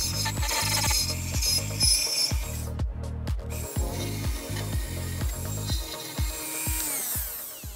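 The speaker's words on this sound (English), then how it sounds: "I'm going to grab a Dremel with a rotating file, eye protection, and we're going to bore this hole out." A Dremel with a rotating file bores out a hole in a part while fitting LED rear turn signals on a 2021+ Yamaha MT-07, giving close, regular rasping strokes repeated in a steady rhythm with a brief pause midway.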